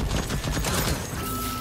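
Helper turret in the video game Deathloop firing a rapid, dense burst of gunfire, loud and close for under two seconds with no talk over it.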